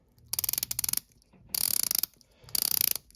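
A watch bezel turned by hand in three quick bursts of loud, crisp ratcheting clicks, each run lasting about half a second with short pauses between, close up and alone.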